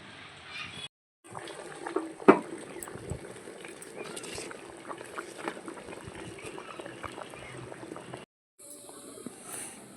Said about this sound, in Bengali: আস্তে আস্তে ফুটবে আর মাংসটা ভালো মতো সিদ্ধ হয়ে যাবে